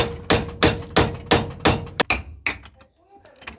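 A hammer knocks a bushing out of a shock absorber from a 30-year-old Lada Niva: a series of about nine sharp, loud metallic blows in a fairly even rhythm, followed by a few lighter taps as the work ends.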